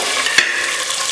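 Curry leaves, onion, garlic and green chillies frying in hot oil after mustard seeds and cumin have popped, a bright continuous sizzle with one quick stirring scrape, close and fairly loud.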